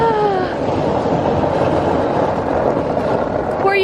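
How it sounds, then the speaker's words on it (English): A utility vehicle (Gator) drives along outdoors with a loud, continuous engine drone and rumble. A brief whining tone sounds at the start and again at the end. "All right, Benjamin, I'm gonna drive over to the coop. Do you wanna ride in the gator"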